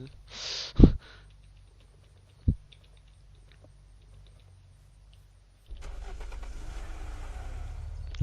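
A car in the video game Unturned is entered with a couple of sharp clunks, followed by a quiet pause, then the engine starts and holds a steady, moderately loud hum.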